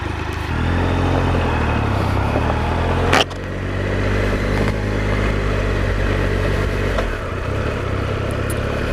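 A Triumph Explorer motorcycle on a trail ride, its engine droning steadily and close, with a brief sharp clatter partway through and small shifts in pitch as the throttle changes.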